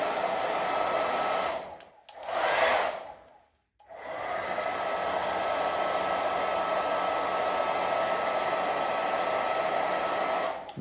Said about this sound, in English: trying it out with the dryer.